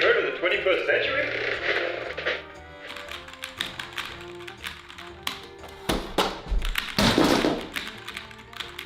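Clacking, thunking keys of an old, jam-prone keyboard in an advert, a run of loud close taps and clunks that starts after a stretch of talk and ends in a heavy thud.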